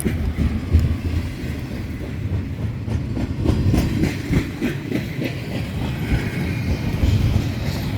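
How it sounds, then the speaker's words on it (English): A freight train rolls past on tracks near a desert ghost town on the Arizona–New Mexico border, a steady close rumble with continuous rhythmic clickety-clack of wheels and faint squealing throughout. "she said they come by every 20 minutes, so you could get your fill of trains"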